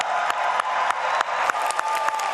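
Applause at the 4th National Youth Conference for the national youth secretary, a dense crowd clapping steadily. A few sharper claps stand out from the wash, with no speech over it.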